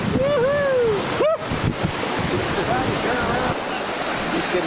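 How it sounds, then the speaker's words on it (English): Whitewater rapids rush loudly past a canoe on a British Columbia, NWT or Yukon river trip, a steady roaring wash with wind buffeting the microphone and a few short bird-like whistles over it. "And these were the best rapids so far."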